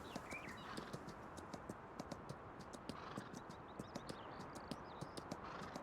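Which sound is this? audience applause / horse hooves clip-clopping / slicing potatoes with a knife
horse hooves clip-clopping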